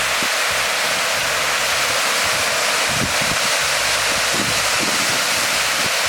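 Water pours over the dam at Tranquility Lake in Alabama, making a constant loud, broad roar like a waterfall with no pauses.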